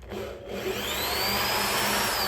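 A drill bit works through a plastic license plate frame on a 2009 Police Special motorcycle, burning and melting the plastic as it goes, with a loud, continuous whining grind close to the mic and no talking.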